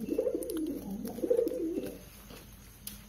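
Pet pigeons coo in a low, rolling run of soft burbling calls, close by, fading out after about two seconds, with no talking.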